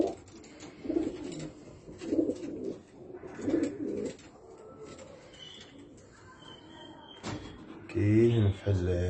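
Red homing pigeons coo in soft, low, rolling bursts, with a louder burst near the end. Someone talks over the birds throughout, and faint background thumps are heard.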